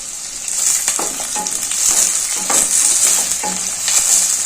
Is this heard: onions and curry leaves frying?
yes